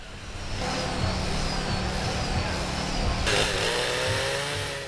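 A motorized chainsaw runs steadily and loudly, its engine pitch shifting partway through as it bites into ice, carving out the center of an ice bowl.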